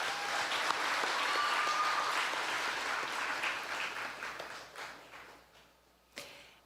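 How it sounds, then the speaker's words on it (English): An audience at the Choctaw Nation princess pageant claps in a dense burst that gradually thins and fades, ending with a single sharp knock near the close. "Let's give her one more round of applause."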